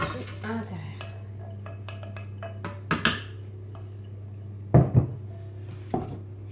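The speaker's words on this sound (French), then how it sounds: "Je viens ajouter le mélange du saladier avec tous les ingrédients secs. Et je verse le tout à l'intérieur." Dry granola ingredients poured from a salad bowl into a Monsieur Cuisine machine bowl: a few scattered clinks and rattling knocks over a steady low appliance hum, with louder bursts near the middle and end.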